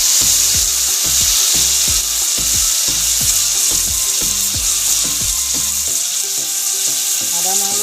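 Pork pieces frying in a pan for an Assamese village-style recipe, a loud continuous close sizzle with repeated scraping and knocking as the meat is stirred.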